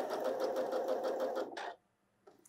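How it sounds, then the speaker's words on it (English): A Janome sewing machine runs a maximum-width zigzag stitch, humming in a fast, even stuttering rhythm of needle strokes for about a second and a half before stopping, followed by a faint click. "Sew a couple inches of maximum zigzag."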